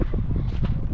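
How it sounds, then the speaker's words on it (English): Strong wind buffets a microphone outdoors on a road in Bulawayo, a steady low rumbling roar with gusty swells throughout. "It's so windy today."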